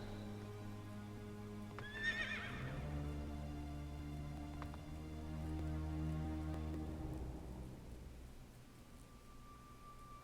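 A horse neighs loudly in the video game Castlevania: Legacy of Darkness, a rising whinny set against steady in-game music that keeps playing before fading out at the end.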